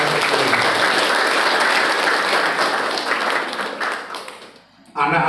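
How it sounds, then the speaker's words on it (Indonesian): Students at a national motivational seminar at MAN 4 Tasikmalaya fill a hall with loud, sustained applause, a dense roar of clapping that tapers off before a voice begins speaking at the end. "Tepuk tangan ya."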